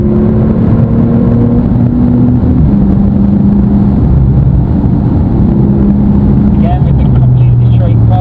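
A Porsche engine drones loudly from inside the car on Circuit Paul Ricard, its pitch stepping up through the gears as it accelerates, with constant road and wind roar beneath and a person talking over it.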